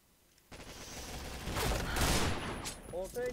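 Gunfire in the online shooter Point Blank: dense, overlapping bursts of shots build up and swell through the middle, then fade as a voice starts talking near the end.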